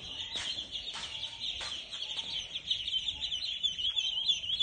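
A crowd of ducklings in a brooder on a farm peeps continuously, high thin calls overlapping with a few louder chirps standing out.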